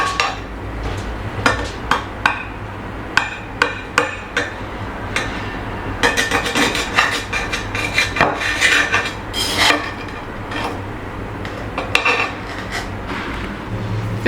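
A knife and cake server cut through a Christmas log cake (bûche de Noël) on a plate, giving repeated close clinks, taps and scraping of metal on dish with brief soft slicing in between.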